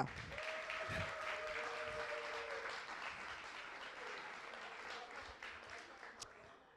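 Audience applause greets the CEO at the finale of a millennial talent contest, a steady wash of clapping throughout with a brief tonal whistle or feedback line early on.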